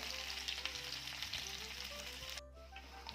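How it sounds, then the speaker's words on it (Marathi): Potato pieces shallow-fry in oil with a soft, constant crackling sizzle and a low steady hum underneath, faint and close, cutting off abruptly near the end. "हे आधी तेलामध्ये चांगले परतून घेऊया"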